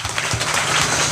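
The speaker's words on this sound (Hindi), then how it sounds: "ताली बजा के प्रभु के नाम को महिमा करे।" A church congregation claps hands together during a Hindi sermon, producing a dense, steady burst of applause that fills the whole brief moment.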